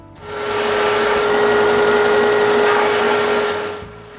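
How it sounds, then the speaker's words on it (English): A wooden piece for a dog basket is sanded smooth, giving a loud, steady abrasive rush with a constant hum. It runs about three and a half seconds with no pauses, alone and close. "I sand it smooth before gluing it onto the basket."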